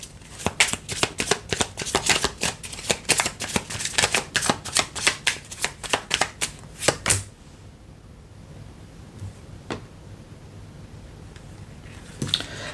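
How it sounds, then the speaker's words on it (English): Tarot cards are shuffled close up in a quick run of crisp, rhythmic flicks and slaps for about seven seconds, then give way to near quiet with a few isolated soft taps. "Let's pull some more cards."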